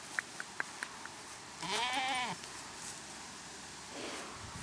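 A goat in the video game Little World gives a single wavering bleat lasting under a second, close and clear, after a few light ticking clicks over a soft steady background.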